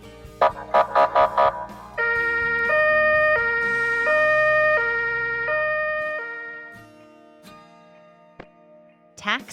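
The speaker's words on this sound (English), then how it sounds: "Ambulance." A loud two-tone ambulance siren from a children's vehicle-sounds learning clip swings steadily between high and low pitches for several seconds, then fades, with short bright bursts before it and faint clatter after.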